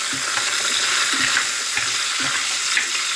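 Garlic, green chilies and ginger sauté in a pan with a steady sizzle, broken by a few soft stirring scrapes, close and continuous for a few seconds.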